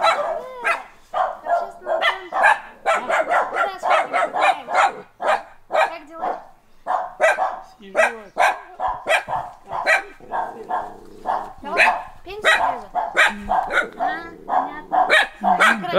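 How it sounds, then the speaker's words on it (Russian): Several dogs in a Russian countryside village bark repeatedly in short, sharp, close bursts with yips, the barking continuous and irregular throughout. "такие собачки милые."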